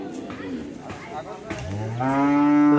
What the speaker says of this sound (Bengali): অসংখ্য গরু উঠছে আজকে।